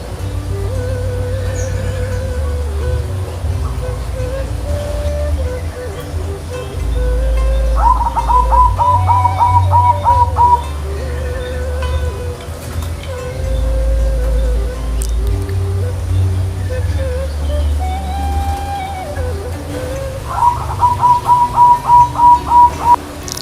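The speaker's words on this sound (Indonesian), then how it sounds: "kita saksikan kandang perkutut sudah saya buka semuanya. Jadi biarkan mereka terbang" Zebra doves (perkutut) coo as their cage is opened for release, soft repeated trilling phrases recurring over a low steady background hum.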